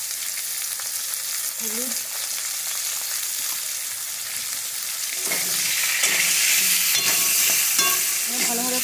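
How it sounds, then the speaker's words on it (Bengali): Potatoes sautéing with salt and turmeric in a pan, a continuous loud sizzle that thickens partway through, with a few scraping stirs and a short spoken word near the start. "দেখো আলুগুলো আমার কষানো হয়ে গেছে"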